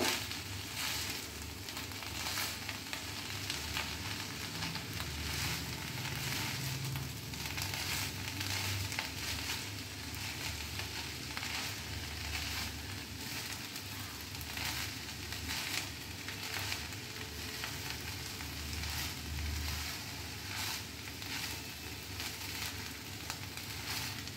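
Banana stem curry frying with poppy seed paste being stirred in, producing a continuous dense sizzle and crackle with faint scraping throughout, fairly quiet and steady, no voices.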